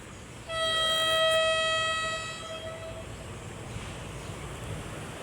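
A PNR train horn sounds one long sustained blast, loud then trailing off as the train rumbles past, with steady outdoor noise underneath.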